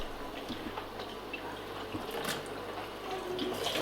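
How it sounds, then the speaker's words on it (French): Cake molds rinsed under cold running tap water in a kitchen sink, a steady close splash and trickle with small knocks of the molds, continuous and alone. "nous allons passer les moules sous l'eau froide"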